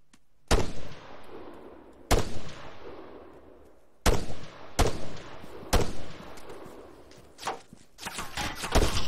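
Gunfire in the video game Arma 3: several loud, sharp shots spaced about two seconds apart, each ringing out with a long decaying echo, followed by a denser cluster of rapid shots at the end.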